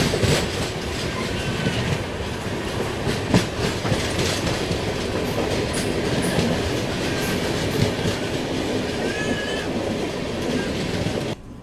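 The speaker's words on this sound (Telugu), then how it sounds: "హజరత్ నిజాముద్దీన్ నుండి తిరుపతి చేరుకునే ఆంధ్రప్రదేశ్ సంపర్క్ క్రాంతి ఎక్స్ప్రెస్ క్రాసింగ్." The Andhra Pradesh Sampark Kranti Express rumbles past close by on a crossing track with a continuous roar and rhythmic clickety-clack of wheels, lasting the whole stretch.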